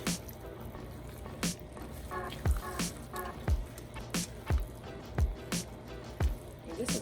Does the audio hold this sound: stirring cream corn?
yes